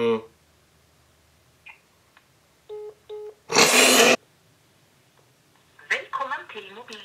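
A phone call placed from a radio or podcast studio rings through: two short ring bursts, then a loud burst of noise before the line connects, with talking around it.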